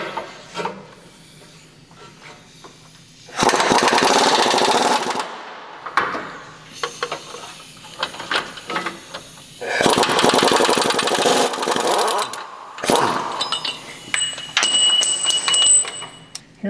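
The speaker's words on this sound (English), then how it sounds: "we're going to set that ratchet right on top of that bolt. Now we're only going to back the bolt out a small amount" Ratchet working a differential bolt loose on a Chevy 2500 during a torsion bar leveling kit install, heard as several loud bursts of rapid clicking that alternate with quieter stretches in a garage.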